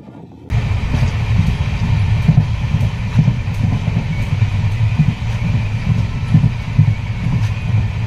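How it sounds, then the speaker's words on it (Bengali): Sealdah Balurghat Express passenger train running toward Gazole station: a loud, close, steady rumble of wheels and carriages that starts abruptly and continues unbroken with faint rhythmic clatter. "তো বন্ধুরা এখন আমাদের ট্রেনে এসে পৌঁছালো গাজল স্টেশন"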